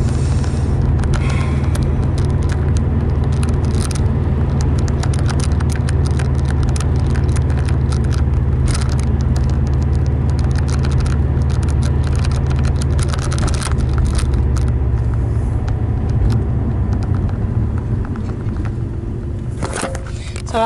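Steady low road rumble from inside a car driving along Stewart Street, a continuous engine and tyre drone filling the whole stretch, with a few knocks and rattles and no talking.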